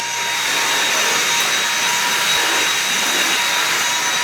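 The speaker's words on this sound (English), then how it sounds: "let me just do a quick vacuum of the place" A vacuum cleaner runs steadily while a room is vacuumed during a home cleaning session, a constant, loud whooshing whine that stays even for the whole stretch with no talking.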